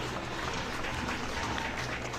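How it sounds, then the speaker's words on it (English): Distant stadium crowd applauding as the Edinburgh rugby side runs onto the field for a Super6 fixture against Glasgow, a faint, even wash of clapping with a low murmur of talk beneath. "warm applause for this Edinburgh side as they take the field"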